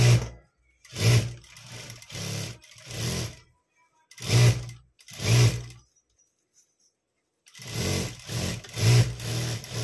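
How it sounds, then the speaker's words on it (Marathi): A sewing machine stitches the sleeve of a katori blouse in short, rapid mechanical runs, stopping and restarting repeatedly, loud and close. "मध्यभागी घेऊनच बाही स्टिच करायची आहे."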